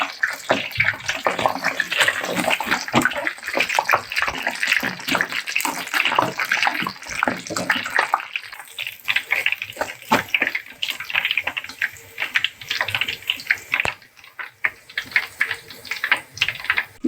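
Frozen breaded chicken fries in hot oil, giving a dense, loud, crackling sizzle that continues steadily throughout and thins slightly partway through.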